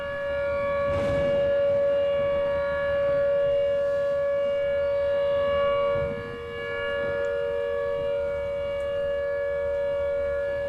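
A civil defense siren wails in Tornado: Research and Rescue, one loud, steady, sustained tone that holds for the full stretch with a brief dip near the end, and no talking.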